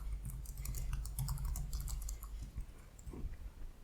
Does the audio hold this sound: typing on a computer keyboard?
yes